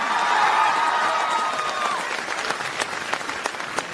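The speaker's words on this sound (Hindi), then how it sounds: "भाई अब बच्चे चिल्ला रहे और तालियां मार रहे" A crowd of children at a university event cheers and applauds loudly, with a broad roar of shouting that gives way to scattered, sharp claps as it fades.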